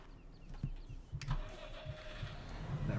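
A Valtra T tractor engine starts up in the Farming Simulator 17 video game, a brief cranking turning into a low steady running rumble, fairly quiet and heard without talk.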